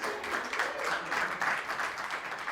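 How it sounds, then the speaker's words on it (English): Steady applause from an audience, a dense wash of clapping that holds at an even level throughout with no pauses. "please give him a round of applause"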